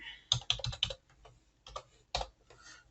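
Password keystrokes on a computer keyboard during an account sign-up, a quick burst of four sharp clicks followed by a few scattered, softer taps, close and alone.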